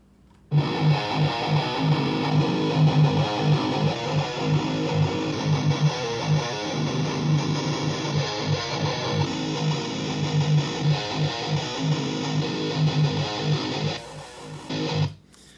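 Electric guitar tones cycled through a Helix modeler into a single cab, loud distorted riffing held steady for about fifteen seconds before cutting off abruptly near the end.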